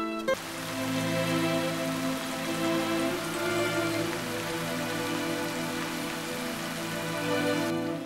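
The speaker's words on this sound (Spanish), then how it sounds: "Creo que seguirá lloviendo." Steady rain falls on a surface, a continuous wash of patter under a low sustained hum, with no voices.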